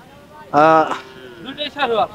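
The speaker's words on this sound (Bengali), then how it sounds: "গরুটা বেশ সুন্দর, দেখেন এক জোড়া গরু" Sahiwal cattle at a cattle market giving a loud, close moo followed by a couple of shorter lowing calls, all within about two seconds.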